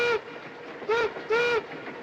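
A narrow gauge train on its very first run, with a whistle sounding in three bursts, the last longer, over a low rumbling background; close and fairly loud, no talking.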